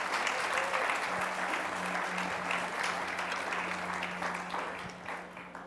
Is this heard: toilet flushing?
no